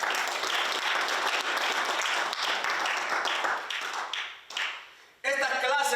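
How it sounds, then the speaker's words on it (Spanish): A church congregation claps hard in dense, sustained applause that swells, then thins and trails off near the end before a voice cuts in. "Usted, dale palmas a Dios."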